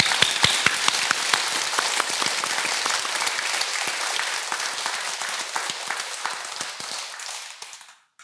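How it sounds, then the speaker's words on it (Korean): Audience applause at a Buddhist dharma talk and memorial service held at Beopjusa temple, a dense, steady burst of many hands clapping that carries on for several seconds and then quickly tapers off, with no voices over it. "이 손바닥에 불어 터지도록 박수를 쳐서 찬탄합니다"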